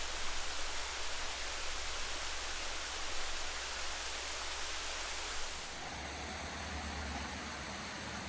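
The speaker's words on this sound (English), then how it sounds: "Enjoy the waterfalls." Bridal Veil Falls in Spearfish Canyon, South Dakota, a steady broadband roar of falling water, loud and continuous, with the texture shifting slightly partway through and no voices.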